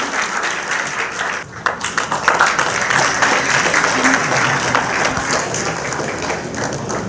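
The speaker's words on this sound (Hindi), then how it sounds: "इनके बाद जोरदार तालियां अपने साथियों के लिए" A large gathering claps loudly for colleagues selected at a job fair, thick continuous applause that dips briefly then swells again and carries on to the end.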